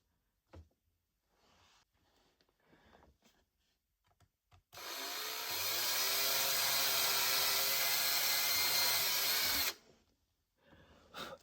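A drill boring a hole through a resin-coated wooden charcuterie board, one sustained loud whine with gritty cutting noise lasting about five seconds, preceded and followed by quiet handling taps and knocks, close up with no talk.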